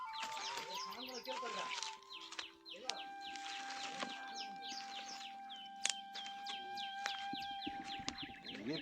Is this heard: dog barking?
no